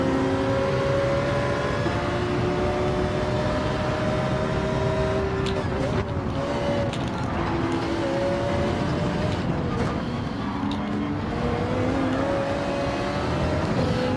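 Racing cars in a Gran Turismo video game race, including a Ferrari, roar continuously with shifting engine notes and gear changes throughout, under steady race audio without pauses.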